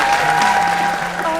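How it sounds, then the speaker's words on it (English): Applause from a crowd, a dense, steady patter of clapping that holds at an even level throughout, with a faint voice underneath. "One more time, a huge round of applause"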